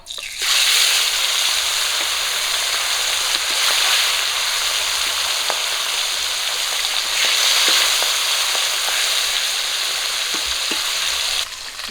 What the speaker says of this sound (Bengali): বাকি মাছগুলো আমি একই রকম করে ভেজে নেবো